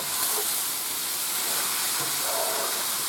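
Onions and garlic fry in a hot skillet with a loud, steady, broadband sizzling hiss that runs unbroken and close up.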